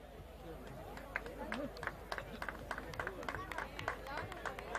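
Audience applause at a Modh Vanik community service award ceremony for Anil Parikh: scattered claps rising over crowd chatter, with an announcer's voice running throughout.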